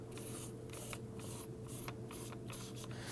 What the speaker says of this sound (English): you can use some spray solvent to clean inside the grooves